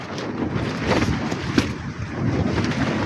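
Strong wind roars against a tent at a small mountain refuge, a loud close rushing blast with a sharp gust peak partway through and no voices.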